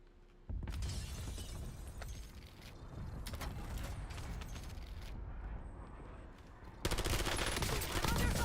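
Rapid bursts of automatic gunfire and clattering weapon mechanics fill a video game firefight, dense and continuous, swelling louder near the end with no one speaking.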